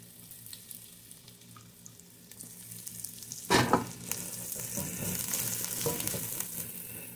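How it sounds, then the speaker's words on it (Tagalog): Minced garlic and onion sauté in a pan for shrimp ginataan, a quiet sizzle that jumps to a burst of loud crackling as the onion goes in, then settles into a steady hiss. "Lagay na agad natin ang minced garlic. Sunod na natin ang sibuyas."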